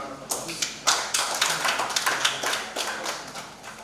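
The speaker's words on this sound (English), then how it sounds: "please give him a round of applause" An audience at a business school event claps for a presenter. The claps are sharp and close, starting as scattered taps and building into fuller applause, and a voice can be heard faintly underneath.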